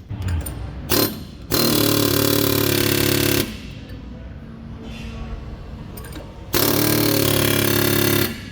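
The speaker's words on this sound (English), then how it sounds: "I prefer to use a air hammer on it and just give her all the way." Air hammer driving hard on a stuck drive axle shaft of a Volvo semi truck, loud sustained rattling bursts in two long runs with a shorter blip before, quieter shop noise between.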